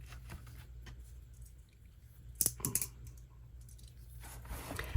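Scissors snip through a book spine as it comes away from the pages, giving a quick cluster of short, crisp cuts midway through an otherwise quiet, close-up stretch.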